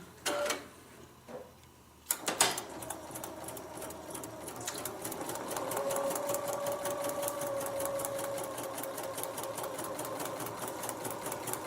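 Sewing machine stitching fabric while paper-piecing a log cabin heart quilt block, a steady rapid mechanical whir running continuously after a couple of brief starts, close and fairly loud with no talk.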